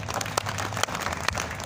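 Audience applause at a mushaira poetry gathering at Ghanta Ghar, Lucknow, a dense steady wash of many hands clapping with a few sharper claps standing out, moderately loud throughout.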